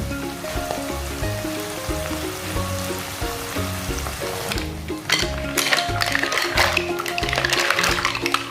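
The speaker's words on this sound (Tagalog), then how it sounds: "Kapag luto na ang kamatis, pwede na natin ilagay ang ating tahong." Mussels tipped into a hot pan of sautéed tomatoes, with a steady sizzle under background music that grows louder and busier partway through.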